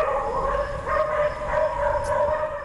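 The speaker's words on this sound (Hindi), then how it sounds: "इस्लामाबाद न्यू इंटरनेशनल एयरपोर्ट पर आवारा कुत्तों का राज" Stray dogs bark and yip at Islamabad New International Airport, several short calls of moderate loudness with a voice speaking over them.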